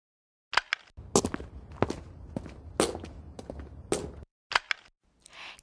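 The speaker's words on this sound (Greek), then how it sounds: "Είναι ο θόρυβος από τα βήματα κάποιου." Someone's footsteps, a series of sharp, close steps in an uneven walking rhythm with short pauses, heard alone against near silence.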